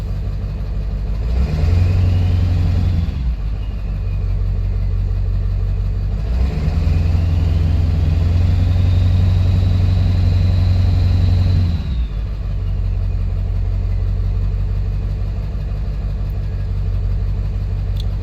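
A 1999–2003 Ford 7.3 Powerstroke diesel engine running with no muffler, loud and close: a deep steady rumble with two rising revs and a faint turbo whine, settling back to idle between them.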